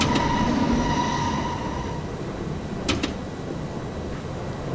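A New York subway train in a simulator game slows under brakes, its rolling rumble fading as faint tonal whines die away, followed by two brief high clicks.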